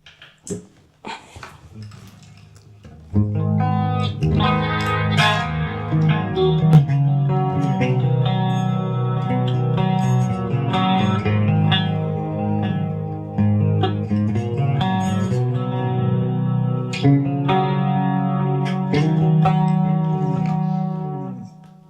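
A cheap Chibson electric guitar strums and sustains chords through heavy effects, a few picked notes first, then steady ringing playing to the end.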